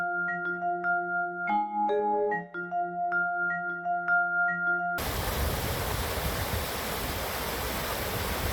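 A creek flows with a steady, full broadband rush in the second half, loud and continuous, after a stretch of tonal music with no water.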